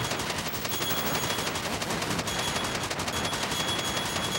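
Rapid continuous gunfire in the game Retro City Rampage, a dense steady stream of shots aimed at barrels, loud and unbroken for the whole stretch with no talk.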